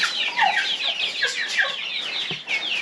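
Young chickens in a mobile coop cluck and peep together in a busy, continuous chorus of short chirping calls, close and fairly loud with no talking.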